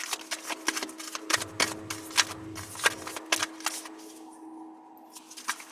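Tarot cards shuffled by hand at close range, a quick run of crisp riffling flicks and soft slaps in a quiet room, with a brief low hum partway through.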